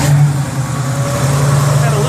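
A 1966 Chevy Nova SS V8 just after a cold start, giving a steady low rumble with a strong hum, close and loud, with a voice over it.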